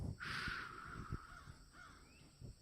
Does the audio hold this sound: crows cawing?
yes